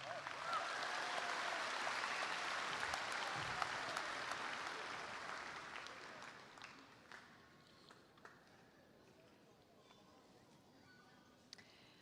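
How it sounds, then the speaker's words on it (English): Applause from a college commencement audience honoring division award winners, a dense steady wash of many hands clapping that fades into scattered claps and faint murmur after about six seconds. "Let's have a round of applause for the 2022 Division Award winners."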